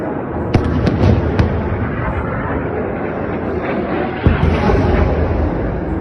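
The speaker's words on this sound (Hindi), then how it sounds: "المقاومة كما نشاهد في هذه اللحظات تحاول هي اعتراض الصواريخ على الانفجارات." Explosions from intercepted rockets in the Gaza-Israel conflict, a loud continuous rumble broken by several sharp bursts near the start and one more blast later, with no speech.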